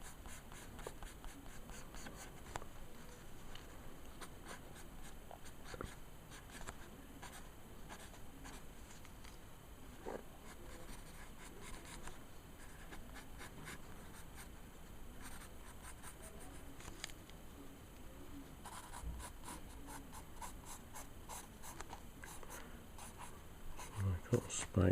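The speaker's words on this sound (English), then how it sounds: "Just quickly sketch them in." Pencil sketching on paper, with close, light scratchy strokes that come in quick repeated bursts and run almost continuously, busier near the end.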